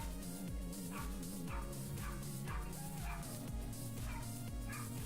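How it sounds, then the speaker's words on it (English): A dog barks and yips repeatedly in the background, steady and fairly continuous, blended into a busy, layered backdrop with a persistent low hum. "can you guys hear that dog in the background?"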